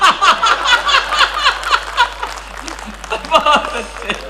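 An audience claps in a loose burst of applause mixed with some laughter, fairly close and lively, fading slightly before a second swell.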